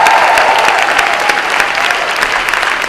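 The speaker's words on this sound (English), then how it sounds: "One big round of applause for all of the seniors this evening" Audience applauding seniors at a senior-living talent show, a steady dense wash of clapping filling the hall without letup for the whole stretch.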